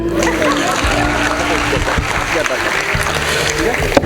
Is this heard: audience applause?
yes